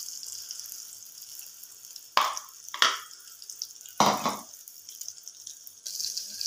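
Chicken pieces fry in a pan at home, giving a steady hiss throughout with a few louder bursts of crackling sizzle and stirring near the end; no talking.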